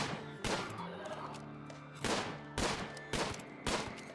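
Loud gunshots in a video game battle, fired singly and in short pairs at uneven intervals, each a sharp, close crack over a droning musical backdrop.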